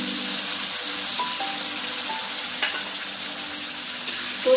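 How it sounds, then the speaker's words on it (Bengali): Poppy seed paste frying with tomato in a pan, a steady close sizzle and crackle with faint stirring and scraping of the spoon. "পোস্ত বাটাটা ভালো করে ভেজে নেব।"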